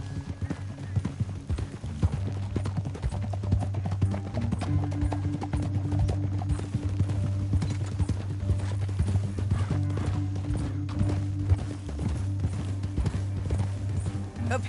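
Steady rhythmic hoofbeats of galloping horses in the video game Red Dead Redemption 2 pound continuously, loud and close, with a low droning tone underneath.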